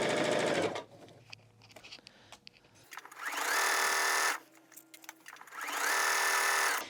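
Sewing machine stitching a pillowcase, running in two long loud bursts with quieter pauses between as the fabric is adjusted, needle stopping down.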